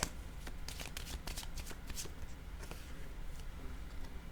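A deck of tarot cards is shuffled by hand, with a fluttering riffle of rapid papery slaps up close, steady and unaccompanied by speech.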